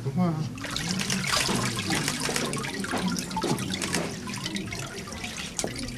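Water drains and trickles from a wooden paper-making mould in a papermill workshop, a steady splashing wash with drips while a person talks over it.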